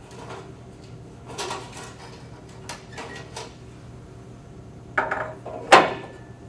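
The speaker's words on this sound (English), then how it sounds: "Removing the cover." The cover comes off an open frame controller with light plastic and metal clicks and rattles, a few scattered handling knocks followed by two sharper snaps near the end, close and fairly quiet.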